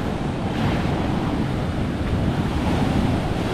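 Ocean waves roar and wash steadily in a loud, unbroken rumble, with a gusty wind blowing over the surf and no voices.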